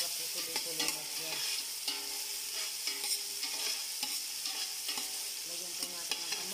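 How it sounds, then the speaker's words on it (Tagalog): Meat sautéing in a pan before rice goes in for fried rice with bagoong: steady close sizzling with repeated scrapes and knocks of a stirring utensil throughout, no talk. "Igigisa po muna natin ang ating laman bago natin ilagay yung ating kanin."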